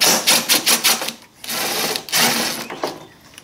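Close, rapid ratcheting clicks in short bursts from a ratchet with a swivel on a 10 mm socket, loosening bolts on a Hyundai Kia engine during PCV valve replacement, with brief pauses between runs.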